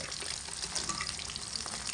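Hilsa fish pieces fry in hot oil with a soft, steady crackling sizzle, close and fairly quiet, without any voices.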